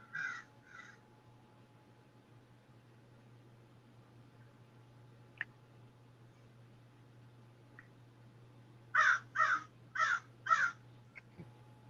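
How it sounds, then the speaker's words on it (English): Crows cawing near a quiet creek, a pair of calls at first, then after a pause a run of four harsh caws in quick succession, distant and clear over a low steady hum. "You hear the crows in the background?"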